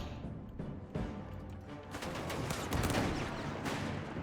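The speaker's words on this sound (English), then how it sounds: "Machine gun opening up the dingo, though." Machine gun fire in the video game Company of Heroes 3: sustained bursts of automatic fire rattle amid the general roar of battle, growing denser and louder toward the end.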